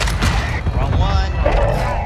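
Mortar strike explosions in a video game thump and boom repeatedly in quick succession, dense and loud, with players talking over the blasts.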